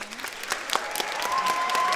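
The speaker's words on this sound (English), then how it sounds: "Can we give them a round of applause?" A school orchestra concert audience applauds the violin players, a short burst of steady clapping with a sustained tone lingering underneath.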